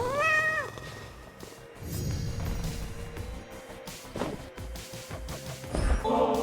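A cat meows in the video game Hades II, a clear rising-and-falling mew at the start, followed by game sounds, thuds and shuffling noises.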